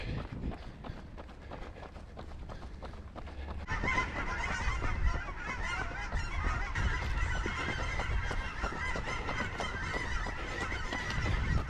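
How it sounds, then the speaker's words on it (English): Canada geese honk repeatedly and loudly over outdoor ambience, a steady chorus of calls that grows denser partway through. "A lot of Canadian geese today."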